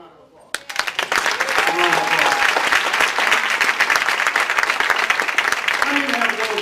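A seminar audience in Sacramento breaks into loud, sustained applause after a brief pause, dense clapping filling the room until the end, with faint voices near the close.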